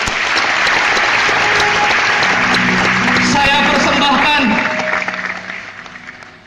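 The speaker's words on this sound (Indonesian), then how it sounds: "Tepuk tangan buat beliau." Loud applause fills a motivational seminar hall, dense clapping from a large audience that fades out over the final seconds, with someone speaking over it into a microphone.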